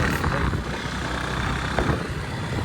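An old Honda CB100 motorcycle engine runs steadily while riding, a continuous, fairly loud low rumble with wind-like broadband noise throughout and no voices.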